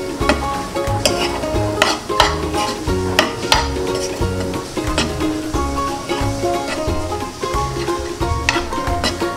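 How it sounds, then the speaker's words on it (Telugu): Mango pulihora rice is stirred in a pan, giving loud, busy scraping and clattering of the spoon against metal over a light sizzle. "రైస్ మొత్తానికి బాగా పట్టేలా ఇలా కలిపేసుకోవాలి"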